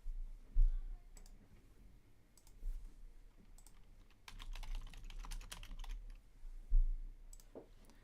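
Keys clatter on a computer keyboard as text goes into a search bar, with short bursts of close, quiet clicking broken by pauses and a few louder taps.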